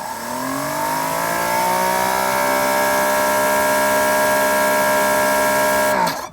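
A GreenWorks electric pressure washer fitted with a 15-degree nozzle sprays steadily, its motor whine rising quickly then holding a loud, even tone before cutting off abruptly at the end.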